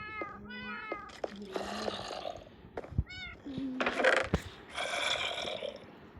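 Two kittens in a video game meow repeatedly in short, high, clear cries, some overlapping, with a few louder bursts partway through.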